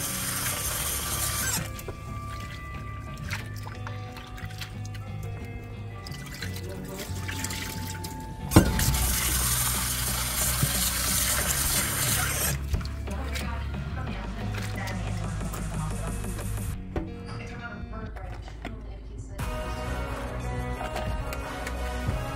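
Salted bitter gourd (ampalaya) is washed under running water in a kitchen: a continuous trickle and splash with handling noises, squeaks and clatter, and a sharp knock partway through.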